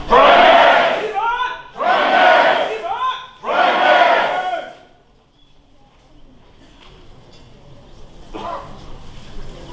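A crowd at a medieval court event shouts a battle cry three times in loud, rhythmic bursts, followed by quieter murmuring and a faint final call.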